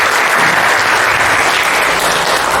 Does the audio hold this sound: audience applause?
yes